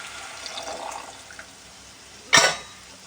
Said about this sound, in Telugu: ఇందులో అయితే చింతపండు పులుసు మొత్తాన్ని వేసేద్దాం